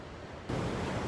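Atlantic Ocean surf on a beach along the Portuguese coast, a broad hiss of breaking waves that swells suddenly louder halfway through and holds steady, with wind rushing over the microphone.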